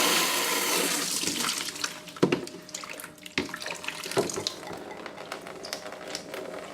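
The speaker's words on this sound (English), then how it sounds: "you're going to take your bucket as a precaution and open up both valves again" Water rushes out of two opened valves on a HiFlo DI400/DI800 deionising filter system into a bucket, a steady near splashing flow releasing system pressure, with no talk.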